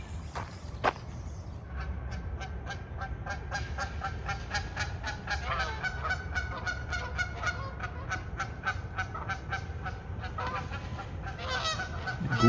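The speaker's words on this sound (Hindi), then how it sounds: "गूस जो है वो फ्लाई करता हुआ जा रहा है पानी के ऊपर से।" Canada geese honk repeatedly in an uneven, overlapping chorus as they fly over water at a public park in the morning, fairly close and steady throughout without talk.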